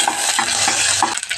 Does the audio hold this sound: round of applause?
no